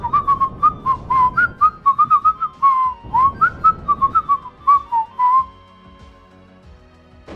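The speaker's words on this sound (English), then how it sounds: "you're not supposed to whistle into a microphone, it creates a horrible noise" Whistling straight into a microphone, a run of short melodic phrases in rapid bursts, close and loud with a piercing tone, then a brief quiet stretch at the end.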